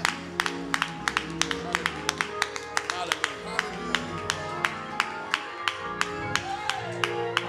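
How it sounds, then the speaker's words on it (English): A church congregation claps their hands in a steady, rhythmic beat of sharp, regular claps over background music, with a voice calling out now and then beneath the clapping. "clap your hands and give God praise"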